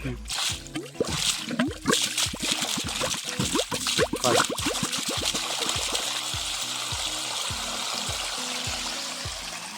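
Water pours from a farm motor pump in a steady, continuous rushing flow that fills the later seconds, with voices and other sounds heard over the first part.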